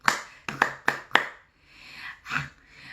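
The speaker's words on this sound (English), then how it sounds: "Now, I'm doing my clapping a little quiet because my husband's asleep." Four sharp hand claps in a quick, even rhythm, followed by a softer, muffled clap; fairly quiet and close.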